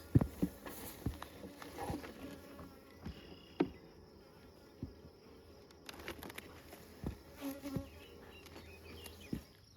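Honeybees buzzing around an open hive during queen marking, a low continuous hum with faint rising and falling drones, scattered knocks and thumps of hive equipment being handled nearby.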